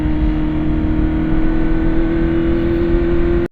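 Modified BMW S1000RR superbike screaming at high revs, a loud sustained engine whine holding a steady pitch close by before cutting off abruptly at the end.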